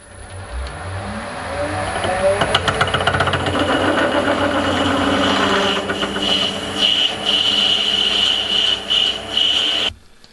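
Machining 19mm brass on a lathe, drilling then boring it out, a steady grinding motor drone with rubbing cutting tones and sharp clicks running continuously before stopping abruptly near the end.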